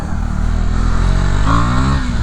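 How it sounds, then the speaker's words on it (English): A motorcycle on a Chicago road revs loudly up close as the rider pops a wheelie, the engine note climbing sharply partway through. "I'm gonna try to pop a wheelie."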